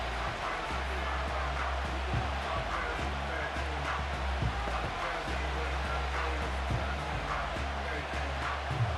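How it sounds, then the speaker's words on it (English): Stadium crowd in a Madden 25 football video game, Detroit Lions versus Chicago Bears, keeps up a steady, dense roar and murmur that runs unbroken through the whole stretch without pause. "this crowd doing their best to make a lot of racket"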